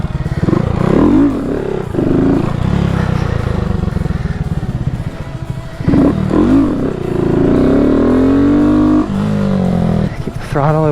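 A Honda Grom motorcycle engine revs hard and repeatedly during a looping wheelie on muddy grass, rising and falling in pitch, close and loud, with a voice talking over it.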